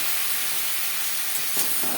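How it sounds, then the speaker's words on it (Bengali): Ridge gourd and potatoes, mixed with salt and turmeric, hiss and sizzle loudly in a hot pan as a little water is poured in, a steady steam-like rush with a brief surge near the end. "দিয়ে দেবো সামান্য পরিমাণের জল"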